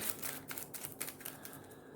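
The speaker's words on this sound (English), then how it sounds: "I think we have to shuffle back into the items deck." Deck of item cards being shuffled by hand during a tabletop card game, a soft rapid riffle of papery flicks running steadily throughout at close range, fairly quiet.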